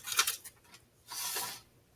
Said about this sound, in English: I'm going to cut out his picture.